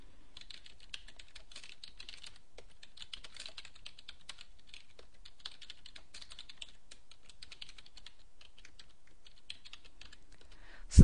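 Steady, quiet typing of a PL/SQL select statement on a computer keyboard, with a continuous run of soft key clicks and a sharper tap or thump at the very end.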